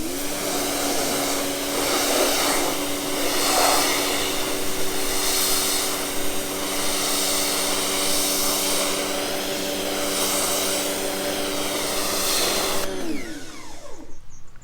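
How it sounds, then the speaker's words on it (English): Pressure washer spraying a car, a loud steady hiss over a constant motor hum that runs without a break, then cuts off near the end. "Let's see if it improves with the pressure washer."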